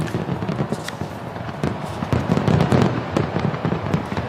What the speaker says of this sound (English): These fireworks are expected to go on for 12 minutes.